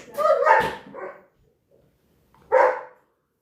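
A dog gives a short run of yips and a whining bark, then after a pause lets out one more brief whimpering bark, close and clear.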